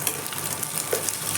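Egg rice is stirred in oil in a pan, giving a soft continuous sizzle with faint scraping of the spoon, fairly quiet and without talk.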